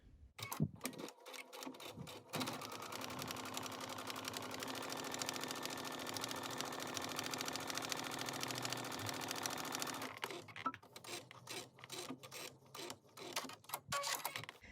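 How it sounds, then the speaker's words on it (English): A quilting sewing machine stitches a long quilting row in a steady, continuous mechanical whir lasting about eight seconds, preceded and followed by brief clicks and handling noises close by. "that's going to allow the machine to stitch consistently"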